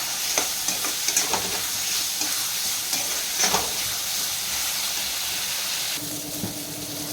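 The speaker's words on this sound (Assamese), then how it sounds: "মটৰখিনি 1 মিনিটমান ভাজি ল'ম" Green peas frying in a dark kadai give a steady close sizzle with scattered stirring scrapes and clicks, the texture shifting to a lower crackle near the end.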